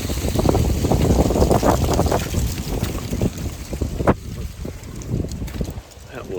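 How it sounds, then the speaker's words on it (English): Cold wind gusting outdoors, roaring steadily into the microphone as a loud, broadband rush that dips and rises, with a person's voice faintly mixed in at times. "And boy, that wind's cold."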